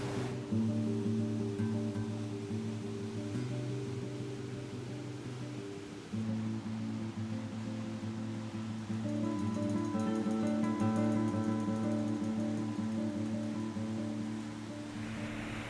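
River water flowing steadily through a desert canyon near a waterfall, a continuous close rushing wash that stays loud and even throughout.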